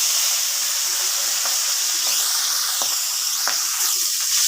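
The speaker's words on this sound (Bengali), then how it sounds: "তেল গরম হয়ে গেছে, আমি এবার মাছগুলো ছেড়ে দেবো।" Bhola fish sputter in hot oil in a kadai, a dense, steady high hiss with occasional sharp pops and crackles throughout, close and continuous.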